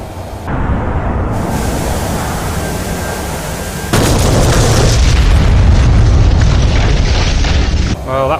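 Bombs blast an anti-aircraft gun site in the DCS World combat flight simulator: loud, rumbling booms that swell into a heavier roar partway through, heard without speech.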